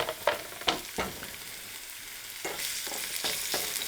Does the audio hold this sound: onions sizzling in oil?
yes